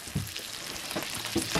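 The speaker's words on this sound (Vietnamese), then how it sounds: "Giờ bỏ vô chiên hết luôn" Fish fried in a pan, probably on a fishing trip on a frozen river: a steady close sizzle with brief louder crackling bursts throughout.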